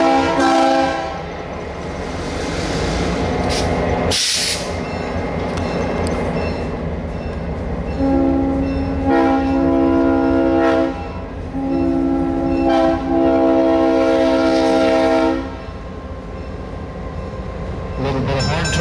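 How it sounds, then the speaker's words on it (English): Norfolk and Western 1605 locomotive horn sounding repeated blasts of varying length during a railroad parade review, loud and close, with rumbling train noise and some voices in the background. "So Ben, give us a little blast on the horn and pass in review"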